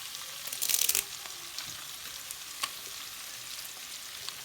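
Beef masala with curry leaves fries in a pan for a pepper and coconut beef roast, a soft steady sizzle with a brief louder burst early on and a few faint scraping stirs.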